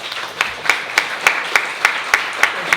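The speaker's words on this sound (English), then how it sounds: "big round of applause" An audience at an evening business talk claps in a steady, evenly spaced rhythm of sharp, distinct claps that sound close and moderately loud, with no voices over them.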